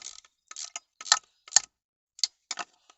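Ratchet turning in clutch bolts on a Peugeot 307 1.6 petrol during a clutch replacement, heard as short separate bursts of metallic clicking with pauses between strokes, close and fairly loud.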